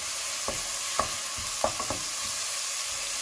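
Garlic and black pepper fried in a pan for lasagne, stirred with a few short scraping strokes over a steady soft sizzle, close and fairly quiet.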